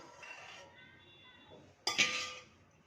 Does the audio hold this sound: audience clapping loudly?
no